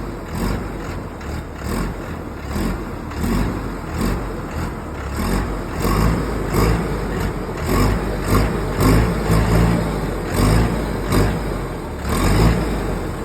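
A 6-cylinder, 80 horsepower 4x4 tractor engine runs steadily and fairly loud, with a continuous low rumble and mild rises in revs throughout, and no voices.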